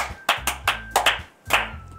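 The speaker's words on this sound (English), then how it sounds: "why are you clapping?" Several sharp hand claps ring out close by, in an uneven rhythm with brief pauses between them, over a low background hum.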